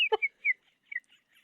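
A short bird-chirp sound effect for a podcast segment, a few quick, thin, high chirps and whistles, close and fairly quiet, with silence between them.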